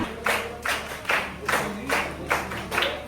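An audience claps together at a school National Space Day program at Jawahar Navodaya Vidyalaya, Hooghly, in about seven evenly spaced, loud bursts of rhythmic group clapping over a low steady hum.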